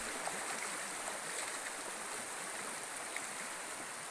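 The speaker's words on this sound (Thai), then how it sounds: "เสียงน้ำไหล" Steady broadband rush of a forest stream flowing in Laos, continuous and fairly close, with no voices over it.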